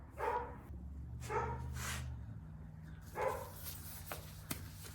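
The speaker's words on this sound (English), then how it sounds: "My dog wants to be on film, that's why you hear her barking in there." A dog barks three times from a short distance, the first two close together and the last after a pause, against a quiet room.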